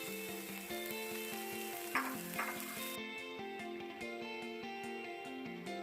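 Ivy gourd leaf thoran being stirred in a pan, with a steady sizzle and soft repeated scraping strokes of a spoon, plus a couple of brief louder scrapes partway through; no talking.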